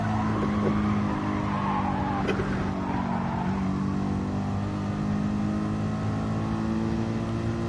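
A race car engine drones continuously at the Nurburgring in a racing video game, holding a steady high-revving tone with a brief harsher burst near the start, all without talk.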